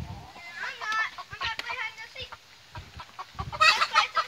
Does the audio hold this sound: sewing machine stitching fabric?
no